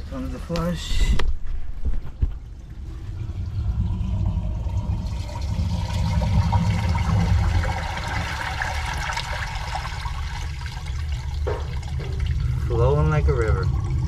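A toilet flushes while a clogged drain is being cleared, producing a sustained rushing, gurgling water sound that runs for many seconds at close range, with a voice speaking briefly near the start.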